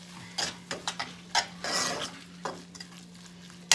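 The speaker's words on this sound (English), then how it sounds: "And then we're gonna mix this up about." Seasoned food with onion and garlic powder is stirred in a pan over the lowest heat, giving a few close clinks and scrapes of a utensil against the pan with a brief rustling burst in the middle and a faint sizzle beneath.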